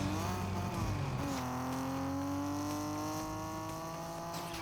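A car engine hums steadily with a rising pitch, as if accelerating, over a busy background of other game-like sounds.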